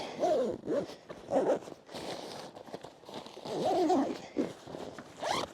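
A small zipper down the middle of a backpack is pulled in several quick, rasping bursts close by, with short pauses between strokes and no talking.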